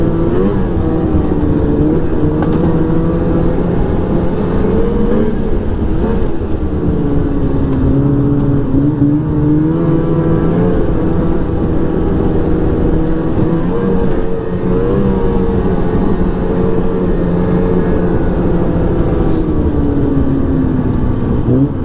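A 2006 Ski-doo Renegade 600 SDI snowmobile engine held at full throttle, a loud, steady high-revving two-stroke drone with slight pitch swells, close and continuous with no talk over it.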